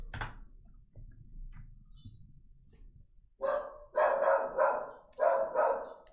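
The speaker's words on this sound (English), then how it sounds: "Sorry if you guys can hear the dog barking." A dog barks several times in quick succession toward the end, fairly close and loud, after a quiet stretch with faint background noise.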